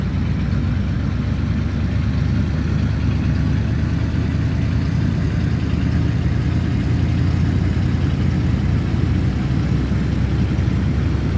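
A vehicle engine runs in the DayZ video game, a low steady drone that holds evenly loud throughout, rumbling and unbroken with no revving swings and no voices over it.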